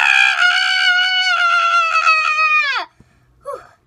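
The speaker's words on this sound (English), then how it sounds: "the purpose of this challenge is to scream as loud as you can for as long as you can" A child screams as loud and as long as possible in a scream challenge, one sustained high piercing cry lasting nearly three seconds before cutting off, followed by a short faint whimper.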